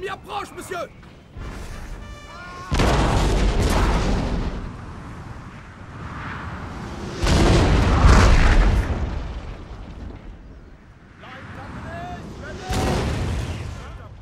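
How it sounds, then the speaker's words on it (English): Heavy cannon booms roll in waves during a Napoleon Total War online battle as two artillery lines exchange fire, deep and echoing, while a commentator talks over the gunfire. "there's an artillery duel going on here"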